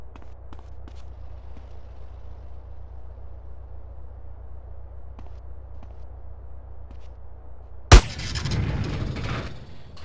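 Gunfire in Grand Theft Auto San Andreas: after a quiet low rumble, one loud, sharp gunshot goes off close by. A short burst of noise follows it.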